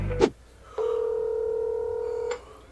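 Touch-tone telephone dialing while placing a call: a short keypad beep, then a long, steady tone lasting about a second and a half, heard clearly with no talking.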